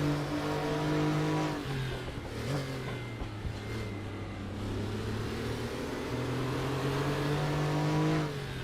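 Porsche Carrera Cup race car engine in a sim racing game, onboard at Knutstorp, revving loud and steady with clear gear-change dips and rising pitch sweeps as it accelerates, alone without talk.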